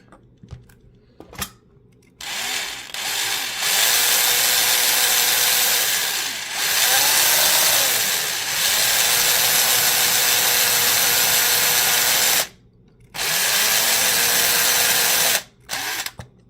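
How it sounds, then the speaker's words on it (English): A power drill runs loud and steady in long bursts, stopping briefly between passes, with a grinding bite as the bit works through material. "I'm going to drill a hole and tap a thread a hole"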